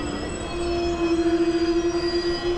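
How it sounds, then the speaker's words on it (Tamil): Kovai SF intercity superfast express pulling into Erode station, wheels squealing with a steady high tone over the low rumble of rolling railcars, loud and close as the train slows. "இப்போது ட்ரெயின் நிற்கிறது ஈரோடு"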